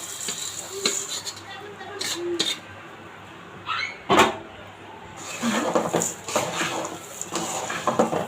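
Fried rice is stirred into sticky sugar syrup in a pan, giving irregular close scraping and knocking with short pauses between strokes.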